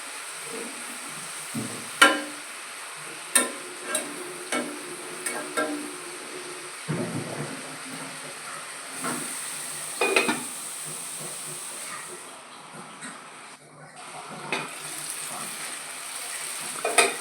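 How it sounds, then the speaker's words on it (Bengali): Small brinjal pieces and green chillies fry in a pan with a soft, uneven sizzle and hiss, broken by sharp clatters of stirring and a quieter stretch near the end. "এবার আমি বেগুন ছোটো ছোটো টুকরো করে দিয়ে দিলাম আর দিয়ে দিচ্ছি কাঁচা লঙ্কা"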